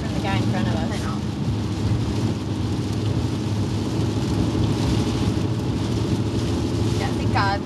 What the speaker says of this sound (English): It's not raining as hard as it was though.